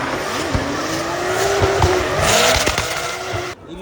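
Drift cars at a French drift championship top 32 Elite battle, engines roaring steadily with tire squeal and skidding, close and loud throughout, cutting off sharply near the end.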